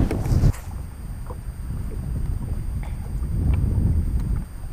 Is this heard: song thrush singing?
no